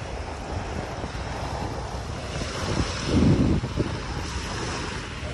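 Waves washing onto the Manila Bay shore, a steady close surf wash mixed with heavy wind buffeting the microphone, swelling briefly midway.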